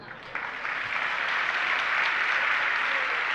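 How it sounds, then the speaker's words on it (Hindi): An audience claps through a Jain sermon by Sudha Sagar Ji Maharaj in Agra, the applause swelling quickly into a loud, sustained wash of many hands with no pauses. "ताली बज गई ना।"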